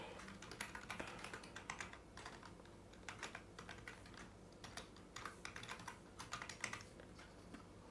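Steady, rapid clicking of keys on a computer keyboard while entering details into a web form, close and fairly quiet, with irregular bursts and brief pauses throughout.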